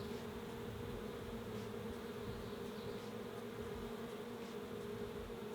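Honeybees buzz steadily around an open hive during an inspection, a continuous, even drone that fills the whole stretch with no voices.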